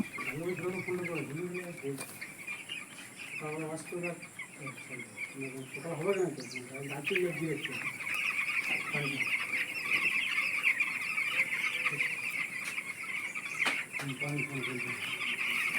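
Chickens cluck and chatter continuously in a large flock of about 450 birds in a 15 by 22 foot village poultry farm shed, with someone talking over the steady poultry noise.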